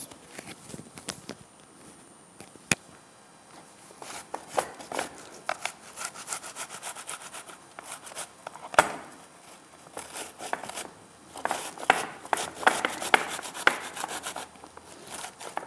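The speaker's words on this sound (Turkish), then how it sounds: "yarım salatalığı rendeliyoruz" Half a cucumber is rubbed against a grater in close, rhythmic rasping strokes, sparse at first and then quicker and denser, with a few sharp knocks.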